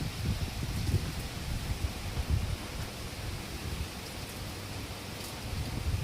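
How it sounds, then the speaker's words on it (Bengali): Heavy monsoon rain falls on trees at night in the Andaman Islands, a steady dense hiss with rustling foliage, fairly faint and continuous throughout, with no voices. "প্রবল বর্ষণে সমস্ত গাছপালা নৃত্য করে চলেছে।"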